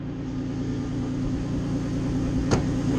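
A Nissan March car sits up on stands in first gear, its engine idling with a steady low hum and drone, one brief click near the end.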